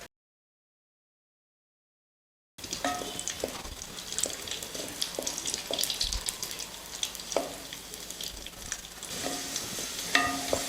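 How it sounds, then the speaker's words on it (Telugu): After about two and a half seconds of silence, raisins fry in ghee in a pan. A soft, close, continuous sizzle with light stirring clicks runs on to the end, with no voices. "ఇప్పుడు నెయ్యి వేసుకుంటున్నా ఇప్పుడు వెండి ద్రాక్ష వేసుకుంటున్నాను"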